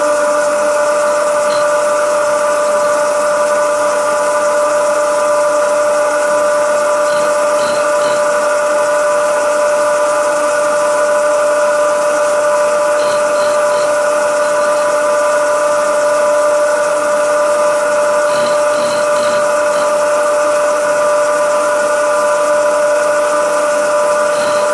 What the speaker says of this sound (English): I will mill away here.